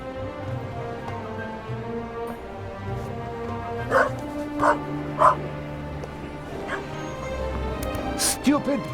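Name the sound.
dog barking and whimpering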